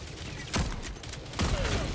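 Two separate gunshots from a shooter video game sound about a second apart, muffled and moderately loud, over a steady low background rumble.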